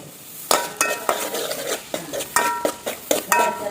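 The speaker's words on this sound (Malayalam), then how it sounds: "ഇനി വെളുത്തുള്ളി ഇട്ടെടുക്കാം" Garlic being sautéed for pickle brings a rapid series of metallic clinks and scrapes as a spoon strikes and stirs the pan, over a faint sizzle.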